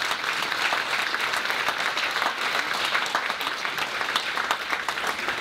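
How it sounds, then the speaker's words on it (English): A large audience at a cancer awareness event claps continuously, a dense, steady, fairly loud applause with no talking over it. "a big round of applause for those people"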